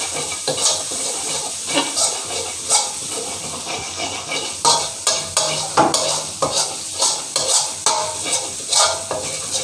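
Stir-frying in a pan for shrimp paste rice, a constant sizzling hiss broken by repeated scraping strokes of a spatula that become quicker and more regular toward the end, loud and close with no talking.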